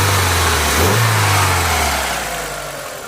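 Mk4 VW Golf GTI with a 1.8-litre turbo petrol engine of 150 bhp runs close by, rising in a brief rev before easing back and fading toward a steady idle, loud and alone.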